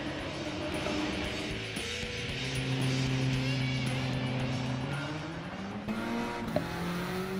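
Abarth 595 race car engines in Gran Turismo 7 at the start of a race, a steady droning engine note climbing and shifting through gears, loud and continuous with faint speech underneath.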